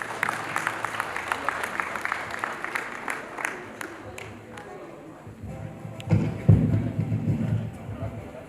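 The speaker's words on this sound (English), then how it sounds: "Mr. Abdul Fattah Jimo, let's give them a round of applause." Applause for honourees at an award dinner night fills the first half as steady, moderate clapping. It fades out, and a voice plus crowd murmur and thumps take over.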